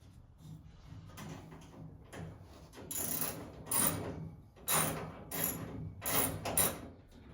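Ratchet tightening the lower bolts on a 1971 Monte Carlo SS454, a run of clicking bursts that grow louder and come in quick repeated strokes, close up with no talk.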